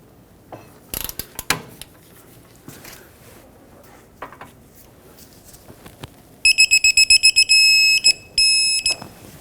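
A torque wrench ratchets and clicks as it tightens an axle hub castle nut on a 2006-2010 Hyundai Sonata, with scattered mechanical clunks and then a loud, rapid series of ratchet clicks in bursts near the end.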